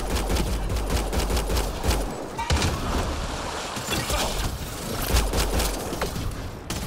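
Sustained gunfire during a firefight in Mass Effect: Andromeda, with dense overlapping shots and impacts that run continuously and loud throughout, some voices mixed in.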